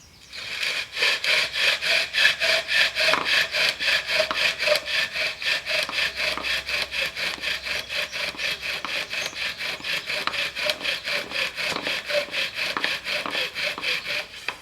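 Bow drill spindle rubbing back and forth on a wooden fireboard: a steady, rhythmic rasping friction with regular strokes, close and fairly loud, continuing for the whole stretch without talk.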